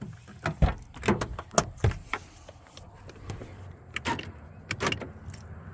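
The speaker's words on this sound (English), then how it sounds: "Power door locks." Power door locks on a 1999 Toyota Tacoma 4x4 pickup, a series of sharp mechanical clunks and thuds actuating several times in quick succession, close and moderately loud with quieter pauses between.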